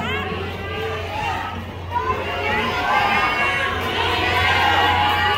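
A large crowd at an outdoor political proclamation rally in Quezon City, Philippines, cheers and shouts continuously, loud and close, with many voices overlapping into a dense roar that swells toward the end.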